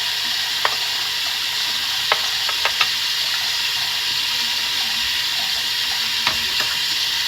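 An item is scrubbed underwater in a sink, a steady wet hiss of water with sparse small clicks and knocks scattered throughout, close and even, with no talking.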